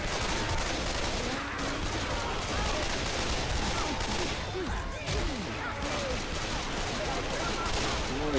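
Sustained gunfire in Left 4 Dead 2 on Xbox One, a dense, continuous barrage of rapid shots with almost no gaps, loud and close, with chaotic game noise mixed in.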